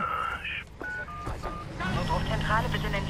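Telephone dialing tones in the video game Watch Dogs: a short run of crisp electronic keypad beeps, each held briefly. Game voices and ambience follow.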